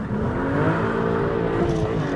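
BMW 1M Coupe engine pulling hard in second gear, a loud, close, rising rev with harmonic tones climbing steadily throughout.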